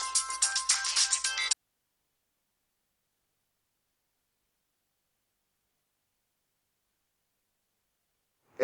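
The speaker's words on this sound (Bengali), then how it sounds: "আপনার রিং হচ্ছে।" A phone ringtone plays a short melodic burst for about a second and a half, then cuts off into silence, with a brief sound returning at the very end.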